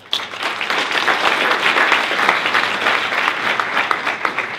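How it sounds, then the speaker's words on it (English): An audience at the ACM CHI 2015 conference applauds, giving dense, sustained clapping that rises quickly and holds steady at close range before tapering at the end. "Let's give them a hand of applause"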